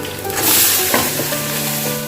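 Leafy greens going into hot oil with fried onion and green chilli hiss loudly, a strong continuous sizzle with stirring clatter, close and without talk.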